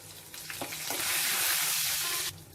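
Crushed garlic and torn dried red chillies frying in hot tempering oil for a tomato rasam, a steady close sizzle that swells after a second and holds loud before cutting off near the end.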